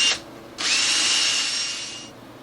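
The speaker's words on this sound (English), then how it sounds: "Just spin it with the drill." A power drill spinning a maroon Scotch-Brite abrasive pad on a Yamaha YZ250F cylinder head whirs briefly, pauses, then spins up again with a high, steady whine that gradually slows and fades.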